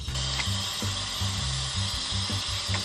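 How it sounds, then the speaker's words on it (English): A toothbrush head rinsed under running water at a sink, a steady close hiss of flowing water with faint intermittent knocks and rattles, continuous and fairly loud throughout. "So now I'm gonna rinse my toothbrush head"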